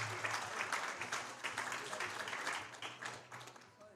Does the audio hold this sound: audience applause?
yes